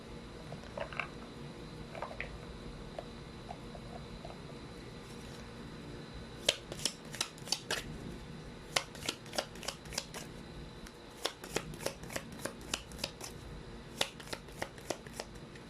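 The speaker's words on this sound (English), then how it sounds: "Let's try to pull up another set of cards." Tarot cards being shuffled in a quiet room: a soft start, then repeated crisp riffling bursts and flicks that come faster and denser toward the end, close and fairly faint, with no talk.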